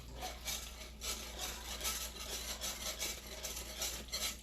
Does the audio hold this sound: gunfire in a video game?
no